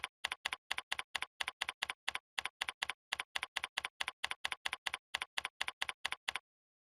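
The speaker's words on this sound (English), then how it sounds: "I'm going to just type a few words here" Rapid typing on a computer keyboard, a quick even run of crisp key clicks in short bursts with one brief pause, close and clear, then silence.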